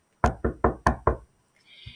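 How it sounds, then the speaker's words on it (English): Five loud, close knocks on a door in a quick, even rhythm, then a short quiet pause and a faint high tone. "she heard a knock at the door"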